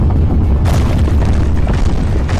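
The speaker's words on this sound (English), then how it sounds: "The place is caving in!" A deep, sustained rumbling boom fills a cartoon scene as a place caves in, loud and continuous with a couple of sharper crashing bursts inside it.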